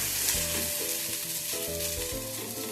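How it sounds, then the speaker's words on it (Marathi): Cucumber paratha frying on an oiled griddle pan, a steady close sizzle with a few soft thuds as the flatbread is flipped and pressed, no voices. "आता हा आपला पराठा पलटावाले आला असा पलटून घ्यायचा"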